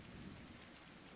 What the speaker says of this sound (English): The sound of rain lulling you to a false sense of security.